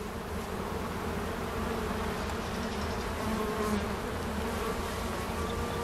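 Honey bees swarm around a traditional karakovan skep hive of woven baskets, their dense, continuous buzzing filling the air at close range with no voices over it.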